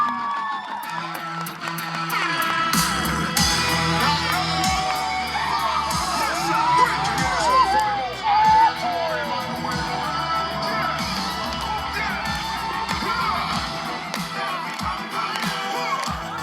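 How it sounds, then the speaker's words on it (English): A crowd at a Samoan Flag Day dance event in Utah cheers and shouts loudly, a dense, continuous roar of voices and whoops with scattered claps and sharp bangs throughout. "A round of applause, ladies and gentlemen."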